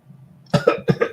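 A low murmur, then a pair of harsh, close coughs in quick succession, loud and abrupt.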